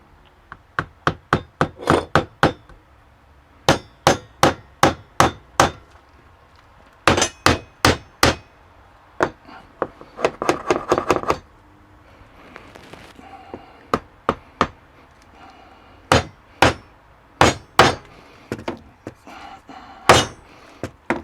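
A ball peen hammer strikes metal in bursts of sharp, ringing clangs, rapid series of close, loud blows separated by short pauses, with occasional scraping between volleys.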